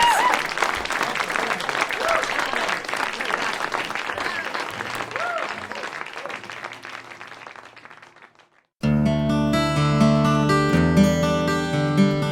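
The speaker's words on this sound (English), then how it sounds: "Give him a big hand." An audience at a live concert applauds loudly, the clapping thinning and fading out over several seconds, and then a band starts playing.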